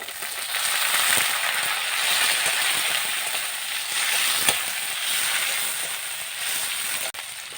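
Chopped onion and garlic, with tomato added, fry in hot oil in a pan for a Bengali cauliflower and rohu fish curry, giving a loud, steady sizzling hiss throughout with a single sharp tap near the middle.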